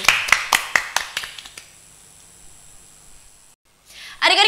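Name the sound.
children clapping hands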